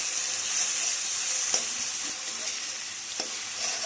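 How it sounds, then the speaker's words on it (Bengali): Grated onion and garlic frying in oil with chilli powder, turmeric and salt give a constant loud, hissing sizzle close by, broken by a few soft clinks of stirring. "এটাকে তেলের উপর দিয়ে তারপরে এটার মধ্যে লঙ্কার গুঁড়ো, হলুদ আর অল্প লবণ দিয়ে মশলাটাকে সাঁতলাতে হবে।"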